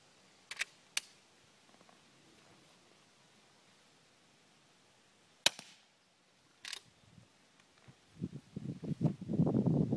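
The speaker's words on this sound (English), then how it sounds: "this is another CB long, but loaded in this gun with an AWC sound suppressor" A .22 CB long round is fired from a rifle fitted with an AWC sound suppressor. It gives a single sharp but quiet crack among a few lighter handling clicks in a hushed setting, and rustling follows at the end.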